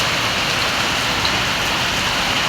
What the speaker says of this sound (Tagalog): lakas ng buhos ng ulan